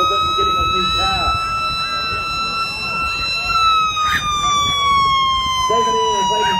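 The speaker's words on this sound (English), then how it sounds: "Right behind them, we've got Mr. John's ambulance" A wailing ambulance siren sweeps steadily in pitch, loud and close, during a carnival and Santa parade in Kaiapoi, with crowd noise and voices underneath.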